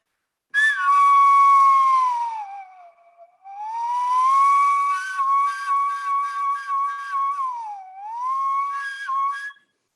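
A solo microtonal flute plays long sustained tones that slide and bend in pitch as the player reshapes the inside of the mouth, with one short pause and a broken, fluttering passage near the end.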